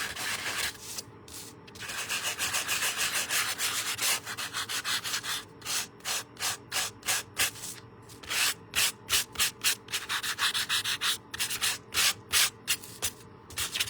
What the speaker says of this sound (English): once you start sanding, that will reveal the white core inside